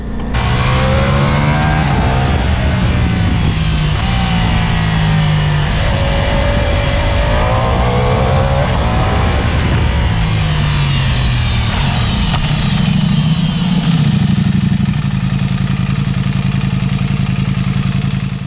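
A Ducati Multistrada V4 Pikes Peak motorcycle fitted with an Akrapovic exhaust and a dry clutch roars past close by, its V4 engine revving and shifting through rising and falling tones, loud and continuous throughout.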